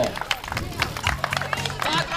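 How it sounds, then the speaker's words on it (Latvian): Scattered clapping from a small crowd at a mountain bike race finish line in Pļaviņas, with sharp hand claps over a babble of voices and an announcer talking nearby. "Aplausi"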